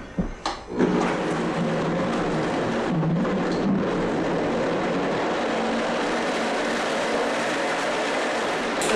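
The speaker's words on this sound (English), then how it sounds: "I'm going to add just a little bit of water and start blending this up" A blender whirs through frozen mangoes and water, a loud, steady, dense roar that fills the whole stretch after a few brief bumps at the start.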